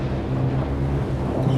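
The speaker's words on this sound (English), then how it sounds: "Huge waves appeared on the horizon." Huge ocean waves rolling in at sea as a cartoon sound effect, a steady loud rumbling wash of water and wind that stays constant throughout.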